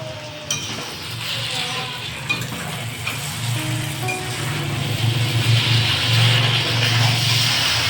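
Egg chowmein with masala and sauce is stir-fried in a pan, a continuous sizzle with scraping and clinking of the utensil, growing louder midway, no speech.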